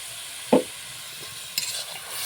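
Ripe pointed gourd mixture being stirred in a pan, giving a couple of short scraping strokes against a soft background sizzle, close and fairly quiet with no talk.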